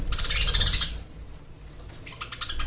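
Java sparrows call in a bird-sale setting, with a cluster of busy, high chirps that fade into a quieter stretch and then return in a second burst of chirping.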